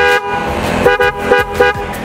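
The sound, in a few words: Denso horn on Kawasaki Ninja 250FI motorcycle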